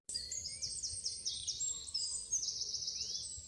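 Birds call around a quiet village, with several sharp chirps and short whistling trills close by over a faint, calm background.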